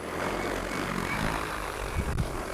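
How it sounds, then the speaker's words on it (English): XAG P100 Pro agricultural drone lifting off and flying outdoors over a field, a steady, loud broadband rotor whir and hum holding evenly throughout with no talk. "We're going to fly the drone over to our first point."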